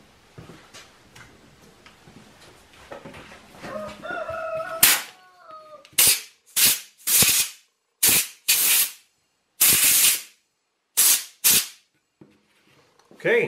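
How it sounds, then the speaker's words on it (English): Compressed air gun blowing dust off a morel mushroom carved from antler, heard as about nine loud, separate bursts of hissing air, each lasting around half a second, spaced roughly a second apart after some faint quieter sounds. "let's get the air gun and we'll clean it up and see what we have"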